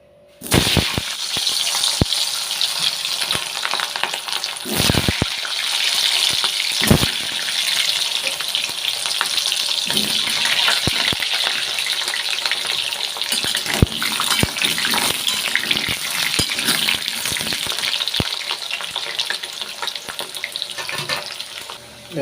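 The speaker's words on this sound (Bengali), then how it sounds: "এবার আমি আলুগুলো তুলে দেব।" Potatoes dropped into hot oil for aloo dum, giving a loud continuous rushing sizzle that runs unbroken with a few sharp knocks and clatters, close up and without speech.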